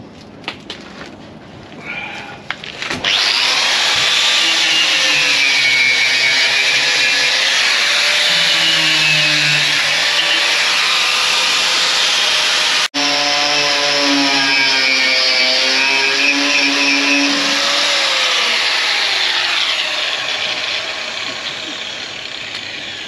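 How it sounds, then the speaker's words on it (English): An angle grinder fitted with a wire brush, its plug wearing out, runs in a loud, steady, whining drone for about twenty seconds, broken by one very short pause midway. "I'll give it a bit more of a wire brush, but I think time for a new plug on the grinder"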